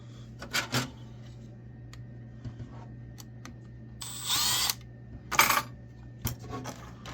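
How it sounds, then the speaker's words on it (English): A power drill whirs in two short bursts while an older computer is taken apart, with light metallic clinks and taps of small parts in between. "Nice, lovely drill."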